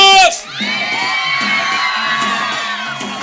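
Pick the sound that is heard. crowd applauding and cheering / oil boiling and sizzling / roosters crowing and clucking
crowd applauding and cheering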